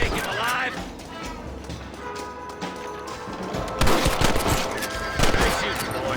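Gunfire in Red Dead Redemption, a burst of rapid shots over a western game soundtrack with hoofbeats nearby, the firing loudest near the end, with someone speaking.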